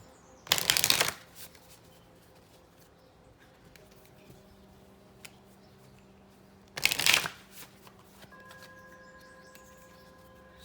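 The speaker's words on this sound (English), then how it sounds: "So let me shuffle some cards," Two short, crisp riffle-shuffles of a tarot card deck, several seconds apart, with quiet room tone and faint tones between them.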